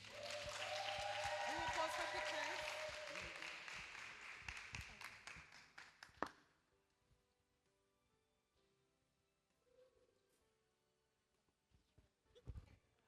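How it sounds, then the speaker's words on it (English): Loud audience applause with cheers and whoops for about six seconds at a department general meeting, then it stops abruptly, leaving a quiet room with faint scattered noises. "A round of applause again for Madam Kelly"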